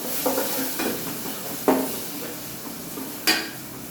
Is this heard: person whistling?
no